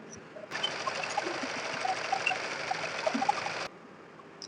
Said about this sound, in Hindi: तो सबसे पहले देखिए आप यहाँ से नीचे की सिलाई लगाएंगे।